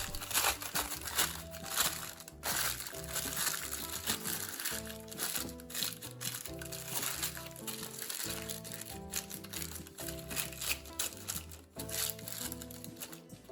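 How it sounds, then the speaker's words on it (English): Parchment paper crumpled by hand, a dense, continuous crinkling and crushing with quick crackles and bursts, heard close but at low level over soft background music. "To make lining the mold easier, crumple the parchment with your hands."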